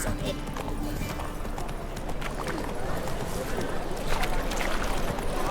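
Geralt's horse Roach clip-clops steadily in The Witcher 3, with rapid, continuous hoofbeats close by under faint ambient game sound.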